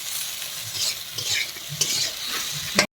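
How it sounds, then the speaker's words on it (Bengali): Bitter gourd frying in a pan as it is stirred, a steady close sizzle broken by repeated scraping strokes, ending in a brief sharp clatter. "এভাবে একটু বেশিক্ষণ ধরে ভাজা করে নিতে হবে।"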